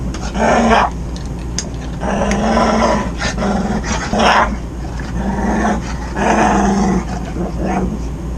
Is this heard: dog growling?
yes